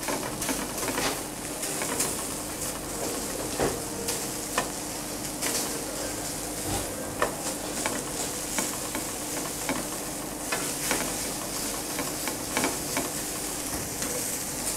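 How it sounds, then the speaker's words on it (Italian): Pieces of lamb browning in a pan sizzle steadily and close up, with scattered clicks and scrapes from stirring throughout. "Il nostro agnello, l'agnello è pronto. Ancora qualche istante, mi pare ben rosolato."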